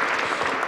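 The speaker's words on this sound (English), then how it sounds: "Maybe a little applause for Sarah." Audience applause at a women's sports leadership panel event, a short burst of dense, steady clapping from a crowd, fairly loud and continuous throughout.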